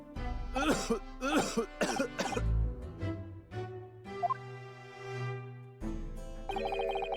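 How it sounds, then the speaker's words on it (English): Recorded coughing sound effects in The Great Ace Attorney video game, several short harsh coughs in quick succession followed by tonal game chimes and music-like beeps. "So many coughing sounds I had to record for this"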